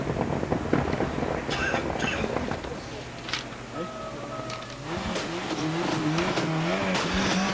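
Group-A Ford Escort RS Cosworth rally car swinging onto tarmac at Clumber Park, engine revving and shifting over crowd noise and commentary, with rising and falling engine tones toward the end.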